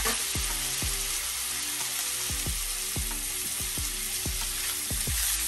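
Bacon and seafood, including scallops, frying in a pan, a steady close hiss and sizzle with repeated sharp taps and scrapes of stirring in an even rhythm.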